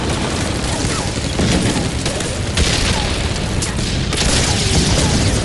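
Continuous dense battlefield din of explosions and gunfire in a WWII Pacific tank battle at night, loud and unbroken with rolling booms and crackling bursts throughout.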